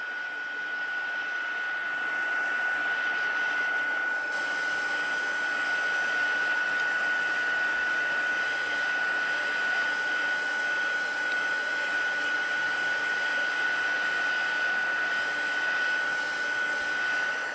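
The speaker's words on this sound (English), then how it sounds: "This is a really nice heat gun that Fun Stampers Journey sells." A craft heat gun blows hot air to dry pigment ink: a loud, continuous fan roar with a thin steady whine, running unbroken and close for the whole stretch with no talking.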